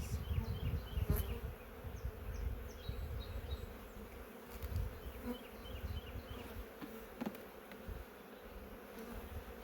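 Honeybees buzz around an opened hive during an inspection, a soft, continuous drone of many insects, fairly faint with a few slight swells and no talk.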